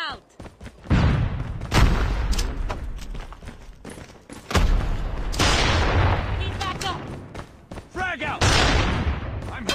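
Inside a first-person shooter match, a grenade explosion and bursts of gunfire crack and boom in rapid, uneven volleys with short gaps, loud and close.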